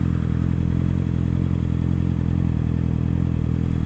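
A Honda CBR 650 R motorcycle being ridden, its engine a loud, steady drone with rough, broadband road and wind noise that holds level throughout, with no voices.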